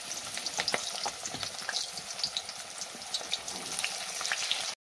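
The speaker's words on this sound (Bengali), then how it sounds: "এবার এঁচড় আর আলুগুলো দিয়ে খুব ভালো করে ভেজে নেব।" Jackfruit and potato pieces frying in hot oil give a steady close sizzle with scattered crackles and pops, ending abruptly in silence.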